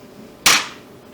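A single sharp, close snip of scissors cuts through crochet yarn, a brief crisp click that fades quickly into a quiet room.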